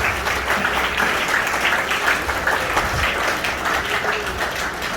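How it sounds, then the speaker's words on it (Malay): A school hall audience claps for honoured retiring teachers at a retirement ceremony, a steady mid-level round of applause with a slightly uneven rhythm throughout. "Jadi bagi tepukan kepada guru-guru kita yang didai di hadapan ini."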